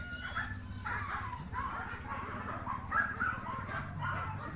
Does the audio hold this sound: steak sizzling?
no